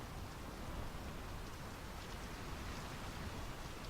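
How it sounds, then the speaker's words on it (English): Steady, soft rain in the narrative video game Draugen: an even, faint hiss of falling water with no voices or other clear sounds. "The rain's picking up."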